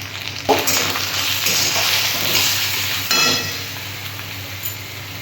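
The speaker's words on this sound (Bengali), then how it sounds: "মশলাটা আমি এভাবে ভালো করে কষিয়ে নেব" Spice paste of turmeric, cumin, coriander, chili and Kashmiri chili powders fries in oil in a pan for a fish curry, giving a steady close sizzle with a couple of sharp utensil clinks as it is stirred.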